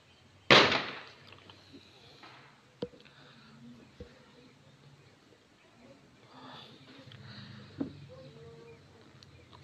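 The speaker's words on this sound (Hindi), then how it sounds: "चारों तरफ पटाखों पटाखों को शोरगुल हो रहा है क्योंकि आज दिवाली है।" Diwali firecrackers go off all around, a sharp loud burst at the start followed by scattered, fainter pops and bangs over a low background murmur.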